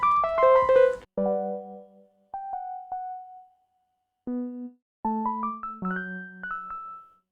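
Cosine preset from a Fraxel contact synth bank plays a melodic run of bright, clear tonal notes in short phrases separated by brief silences, close and alone with no voices.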